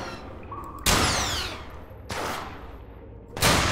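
Three loud sniper rifle shots from the online game Fallen Earth ring out about a second apart, each a sharp crack trailing into a long echoing decay.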